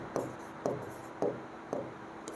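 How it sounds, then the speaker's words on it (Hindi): Pen strokes on paper or a board while working a matrix math problem, four evenly spaced short scratching strokes, quiet and close, with no talking. "LHS साइड लिखता हूँ मैं यहाँ से"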